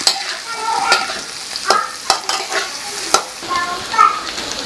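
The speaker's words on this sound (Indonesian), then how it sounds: "Kita tumis sampai harum. Aku mau pakai oncom tumis togenya. Oncomnya aku masukin dulu." Oncom, a fermented soybean cake, is stir-fried in a pan with garlic and chili, sizzling loudly while a spatula scrapes and knocks in sharp, irregular strokes.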